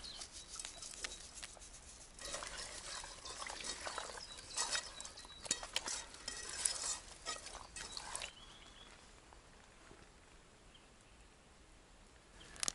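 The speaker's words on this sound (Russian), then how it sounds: "Теперь соль, перец и на сковородку." Salted, peppered fish coated in semolina sizzles in a frying pan at a backwoods camp, a dense crackling hiss that swells for several seconds, then settles to a quieter, steady fry.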